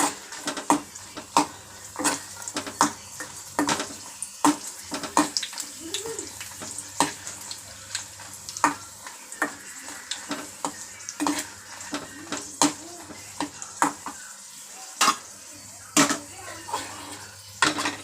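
Dried red chillies fry in a pan with constant sizzling under repeated rhythmic scrapes and clinks of a spatula against metal, close and busy throughout, with no talking.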